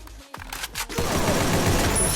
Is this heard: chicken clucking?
no